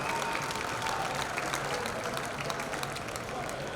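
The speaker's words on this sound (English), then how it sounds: "Let's have a big round of applause for Reading High School." Crowd applause and cheering at a high school baseball Division 2 championship game for the Reading High team, a steady wash of clapping filling the whole stretch at moderate distance.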